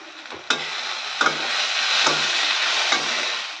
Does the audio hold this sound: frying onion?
yes